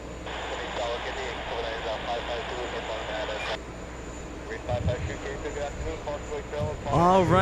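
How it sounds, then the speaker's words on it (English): A Korean Air A380 airliner rolls for takeoff at JFK Airport, its jet engines a broad steady roar heard from a distance beneath ongoing voices and radio-like chatter. "we have Korean already on the move on its takeoff roll"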